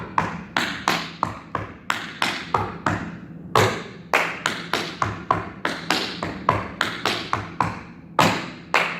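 Tap shoes brush and strike a floor in a quick, fairly steady run of crisp taps with occasional heavier accents, near and clear with no talking.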